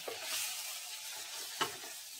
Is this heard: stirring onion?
yes